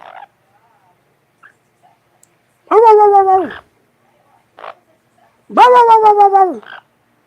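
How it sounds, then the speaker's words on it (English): A dog gives two drawn-out, howling whimper-barks on command, each lasting about a second, with brief quiet sniffs and small noises in the silences between. "Rubber, can you bark? Go woof"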